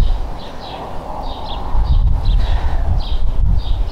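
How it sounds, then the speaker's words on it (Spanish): Small birds chirp in a Spanish village, high short twittering calls repeating every half second or so over a rumbling, rustling background of footsteps and movement close by. "Se oyen los pajaritos."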